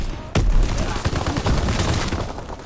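Gunfire in the Call of Duty WWII video game, a sudden loud burst followed by rapid, dense rattling shots and impacts, close and continuous for a couple of seconds.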